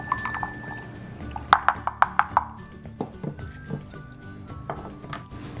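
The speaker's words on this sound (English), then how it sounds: "Whisk it in there." An egg yolk is whisked in a bowl for a paleo recipe free of gluten, dairy, grain and sugar, giving a quick burst of sharp, rhythmic clinks close by, then softer scraping.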